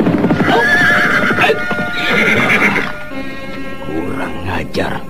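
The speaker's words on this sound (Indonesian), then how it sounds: "muncullah Ugrawi dan teman-temannya menunggang kuda" Horses ridden at speed with clopping hooves and a neigh, loud and near, mixed with dramatic music and a spoken narration over the top.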